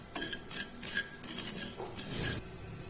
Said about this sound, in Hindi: हमने एक पैन ले लिया और इसमें 1 टीस्पून ज़ीरा, 2 टेबलस्पून साबित धनिया, इसको हमने रोस्ट कर लेना है